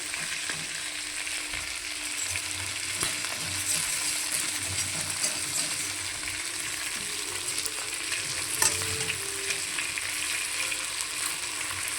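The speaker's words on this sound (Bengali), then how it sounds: "দেখো ভাজা হচ্ছে, আস্তে আস্তে ভাজা করছি" Steady, soft sizzling of kain fish frying in a covered pan, continuous and even throughout, with an occasional light clink.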